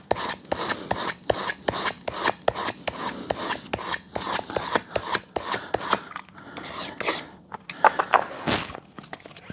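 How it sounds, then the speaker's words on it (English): A sharp Stanley utility knife trims fabric from an antique dining chair seat, giving a steady run of quick rasping, scraping strokes close by. The strokes slow and grow uneven near the end. "Trim the fabric off,"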